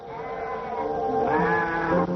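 Sheep on a 1960s North Dakota farm bleat in a loud, sustained, wavering cry, with a second call layered in midway through and a rough, lower bleat near the end, close by and without talk.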